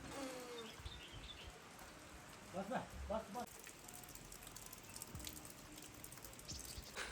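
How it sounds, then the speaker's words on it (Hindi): Light drizzle patters softly in a cold mountain setting, with faint, scattered drops over a low background hush, a few bird chirps, and a brief stretch of nearby talk. "हल्की हल्की बूंदाबांदी हो रही है"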